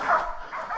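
A hunting dog's short, excited barks and yips at a wild pig, fairly close, clustered into a brief burst with a slight whine.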